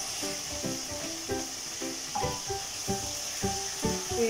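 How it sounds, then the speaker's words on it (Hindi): Onion and garlic frying in oil with ginger paste for an apple gourd dish, a steady close sizzle broken by a regular series of spoon scrapes and taps against the pan. "अब हम लहसुन और प्याज को तकरीबन 2 मिनट के लिए ऐसे ही भूनेंगे।"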